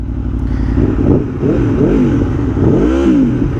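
A 2022 Aprilia Tuono V4 Factory with an Akrapovic slip-on exhaust, baffle removed, revs loudly and up close, pitch climbing and falling in several throaty surges with a raspy, uncorked tone.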